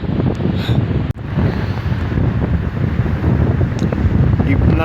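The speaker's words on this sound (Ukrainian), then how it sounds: "Настояща піщана буря, я в таку ще не раз не попадав" Strong sandstorm wind in Peru roars and buffets the microphone continuously, a harsh broadband rush with a brief dropout near the start.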